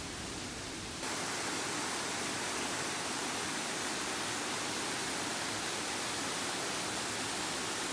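Water from a rocky stream and waterfall in Hong Kong rushes steadily in a dense broadband roar, full after recent rain, sustained and close with no talk.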